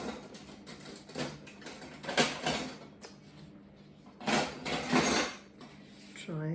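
A metal spoon clinks against dishes while tomatoes are being tasted, giving a few light, close clattering hits spread across the moment with brief pauses between them.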